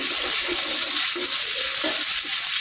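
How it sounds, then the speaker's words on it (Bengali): Meat for nihari fries in oil in a pan once the water has cooked off, making a loud, close, continuous sizzle with faint bubbling pops and stirring underneath, and no one speaking. "এখন এটা লাল না হওয়া পর্যন্ত আমি ভাজতে থাকবো।"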